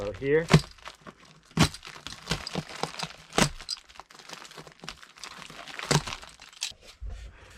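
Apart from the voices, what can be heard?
knife cutting ceiling insulation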